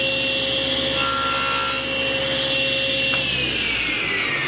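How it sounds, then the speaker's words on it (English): A drum sander works black walnut and bloodwood pieces, a loud continuous whirring grind with a steady motor whine and slight pitch shifts as the wood passes through, heard alone. "now I'm running the pieces that are going to go between the black walnut and the bloodwood through the drum sander"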